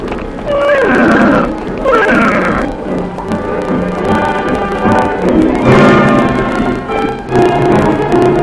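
A man imitates a horse with loud, sustained whinnying and neighing sounds close to the listener, voiced in repeated rising and falling cries.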